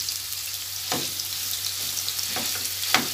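Minced meat sautés in a spoonful of oil, an even close frying hiss with a few sharp stirring scrapes cutting through at intervals and no talking.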